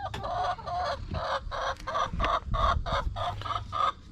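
Farm chickens squawk and cluck loudly in a rapid burst of harsh, overlapping calls close by. There is no talking.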